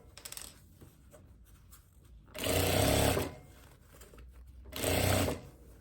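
A sewing machine stitches the sleeve lining to the body lining of a tweed overcoat in two distinct bursts of rapid whirring, with quiet handling of fabric between runs.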